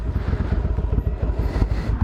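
Motorcycle ridden to the mechanic for a tyre change, its rider wearing spare tyres around the body; a steady, low, rumbling engine drone with rapid rhythmic pulsing runs throughout, close and fairly loud.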